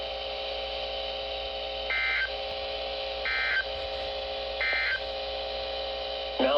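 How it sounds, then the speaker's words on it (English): NOAA Weather Radio warning alarm test from an EAS broadcast: a steady electronic tone held over a constant hum, broken by three short beeping bursts at regular intervals and a louder burst at the end. "This is a test of the NOAA Weather Radio warning alarm."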